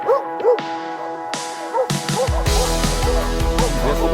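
Dogs bark and yelp repeatedly, close and loud, the barking growing more intense and layered as the clip goes on.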